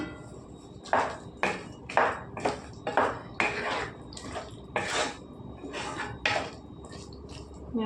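A spoon stirs a cauliflower and bean curry with green chillies in a metal pot, producing a steady series of close scraping, clinking strokes about every half second over a faint background hiss.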